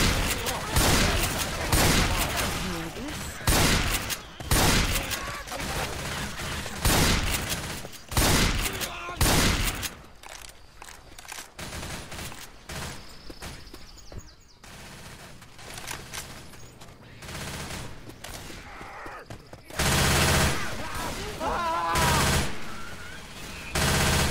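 Rapid bursts of Uzi submachine gun fire in a shooter video game, loud repeated volleys in stretches, with short pauses and quieter gaps between them.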